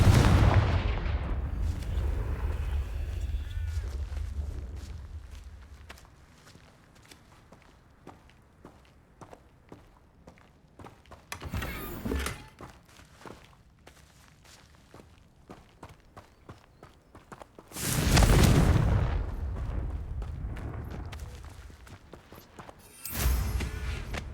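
Confringo fire spell in the Hogwarts Legacy video game, two loud bursting blasts standing out among quieter footsteps and game ambience, the second explosion the strongest, with no talking.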